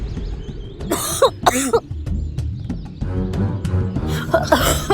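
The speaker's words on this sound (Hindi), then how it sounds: "फिर से खांसी उड़ गई।" Repeated hacking coughs and throat clearing come in close, loud bursts over a low background hum.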